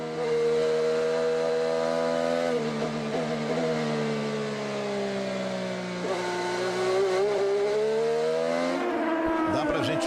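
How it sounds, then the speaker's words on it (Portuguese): A Chevrolet-powered Formula Indy race car at Mid-Ohio in 2016, its engine screaming loud and continuous, the high-pitched whine sliding down and climbing back up through gear changes and throttle lifts. "Perceber pelo barulho do motor, nessa sinfonia do motor da Fórmula Indy, o Chevrolet do Tony"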